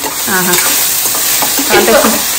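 Ridge gourd frying in a pan for chutney, a steady close sizzle with scraping stir strokes; faint talk-like harmonic bands run underneath.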